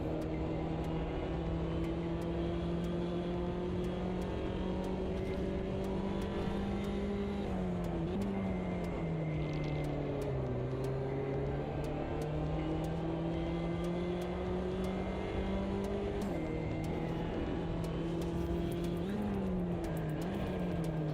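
Race cars in a racing video game, a continuous high engine whine that dips and climbs with gear changes and corners, steady and loud throughout with no talking.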